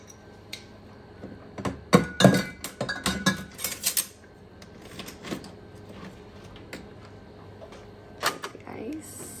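Ice clinking into a cocktail glass of clarified pre-batched Michael Jackson Punch, a cluster of sharp close clinks and rattles early on, then quieter knocks and a final clink, with some talk around it.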